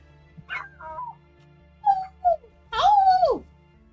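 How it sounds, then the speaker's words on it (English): Dogs in the video game Mabinogi give a few short yips and barks followed by a drawn-out, rising and falling whimper, fairly close and clear over a faint background hum. "That's what the dogs sound like to me."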